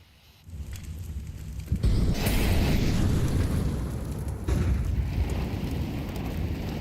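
A grenade goes off in Counter-Strike 2 with a sudden loud blast, followed by a sustained, crackling rumble that stays dense and noisy for several seconds.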